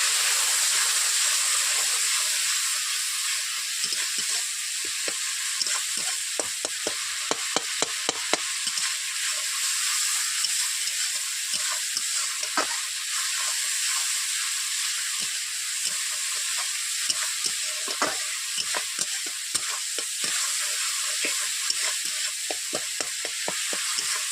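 Spice masala for shukto, a Bengali vegetarian dish, sizzling and bubbling in a pan after a little water is added, with a steady hiss and frequent small crackling pops throughout, fairly loud and close.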